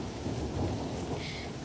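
Heavy rain pours steadily with a low rumble of thunder underneath, a dense continuous wash of sound with no voices.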